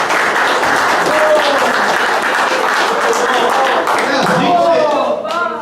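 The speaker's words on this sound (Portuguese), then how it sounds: "Palmas para o Calixto, pessoal." A seminar audience at a union meeting applauds José Calixto Ramos, president of a national industry workers' confederation, dense sustained clapping with crowd murmur, while a voice speaks briefly over it near the end.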